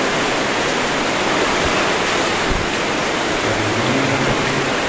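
An underground river in Blitar rushes steadily, a loud, dense roar of water that fills the space without letup, close and unbroken.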